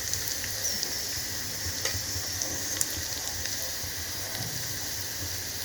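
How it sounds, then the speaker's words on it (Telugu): Split moong dal frying in oil in a pan for moong dal khichdi, a steady, even sizzle that runs throughout with no talk over it. "పెసరపప్పు కొంచెం రెడ్ కలర్ వచ్చిన వరకు ఆయిల్లో వేయించాలి ఫ్రెండ్స్"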